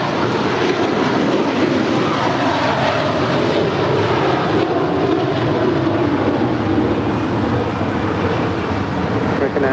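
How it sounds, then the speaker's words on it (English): An Eva Air Cargo Boeing 777 departs runway 25 right at LAX, a steady loud broadband jet roar filling the whole stretch without letup. "Eva Air Cargo 777 is the next departure on 25 rights."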